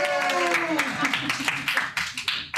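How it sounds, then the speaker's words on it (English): An audience breaks into a round of applause, many hands clapping densely at close to moderate range, mixed with cheering voices and a voice over the crowd. "Let's give Angela a round of applause."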